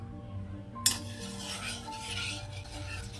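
A spoon clinks once against a glass, then soft swirling and scraping as powder is stirred into water, quiet and close with a faint background hum.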